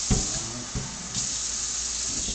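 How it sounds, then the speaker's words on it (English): Water pours steadily from a tap into a container of brine for a pork shoulder, a close, constant hissing stream with a few small splashes. "I'm going to go ahead and add the water this time."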